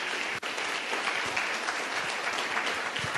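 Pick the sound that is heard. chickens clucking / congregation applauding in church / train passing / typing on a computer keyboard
congregation applauding in church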